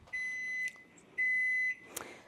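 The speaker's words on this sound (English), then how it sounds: "that's our 5-minute timer" A kitchen timer set for five minutes while freeze drying yams sounds two clean, loud, sustained electronic beeps, evenly spaced, followed by a short clatter.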